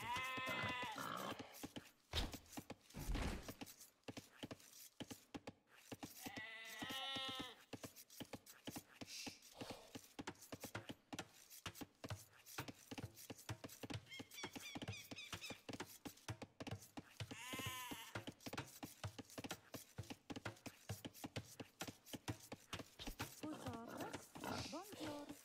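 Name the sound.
sheep bleating in a video game (Age of Empires)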